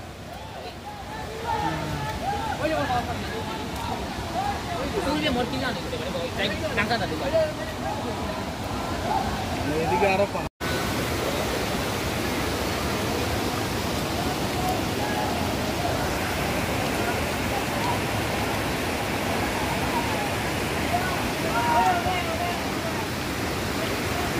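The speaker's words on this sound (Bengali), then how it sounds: "এখন বৃষ্টির দিন আর পানির সিজন দেখে এত বড় ঝর্ণা দেখা যাচ্ছে" Madhabkunda waterfall, swollen in the rainy season, roars as a dense, continuous broadband rush that fills the whole stretch, with a brief cut partway through and voices faintly present underneath.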